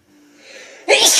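A sick woman sneezes once: a faint rising inhale builds for most of a second, then a sharp, loud burst ends it, close to the microphone.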